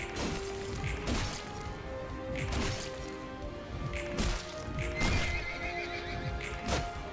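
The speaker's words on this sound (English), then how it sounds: "why am I hearing like horse noises?" A horse whinnies repeatedly while hooves clip-clop, with occasional sharp knocks. The sounds stay steady and moderately close under a continuous background, and no one speaks.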